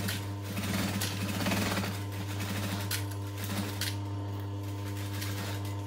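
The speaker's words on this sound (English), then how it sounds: "I'm going to come to the bottom and stitch back stitch and then stitch around the whole bag" A sewing machine stitching around the bottom of a multi-layered backpack, a close, steady mechanical hum with a rapid needle clatter that speeds up and slows in short runs.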